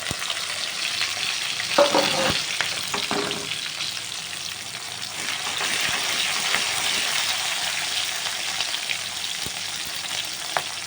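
Onion and green chili frying in a pan, a steady loud sizzle with a few stirring scrapes early on, continuing evenly throughout with no talking.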